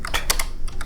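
Rapid typing on a computer keyboard, a quick burst of key clicks in uneven rhythm, close and clear, with no talking.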